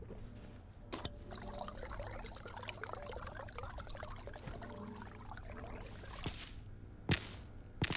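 Water pouring in the space-survival game Stationeers, a steady liquid trickle running through the whole stretch with a few sharp clicks, no talk.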